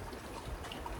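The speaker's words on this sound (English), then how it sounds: "The rain has arrived in Yorkshire." Steady rain falls outdoors in Yorkshire, a dense, even hiss of water with no gaps, moderately loud and close, with no voices over it.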